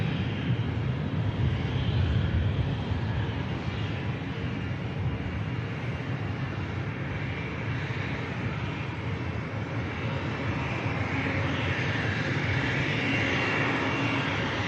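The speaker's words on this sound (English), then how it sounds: "we can watch this aircraft on the climb" Jet airliner climbing out after takeoff from Manchester Airport, heard as a steady, broad engine roar that holds loud and even throughout without a break, no voices.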